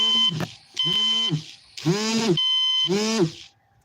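Electronic alarm beeping in four sustained, tonal bursts with strong harmonics, each lasting about half a second to a second with short gaps, loud and close in an otherwise quiet room.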